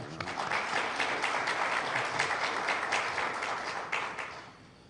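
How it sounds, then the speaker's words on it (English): A room full of people at a joint news conference on the Philippines–Canada visiting forces agreement breaks into a round of applause, dense continuous clapping that holds steady for a few seconds before tapering off at the end. "we must give him a round of applause"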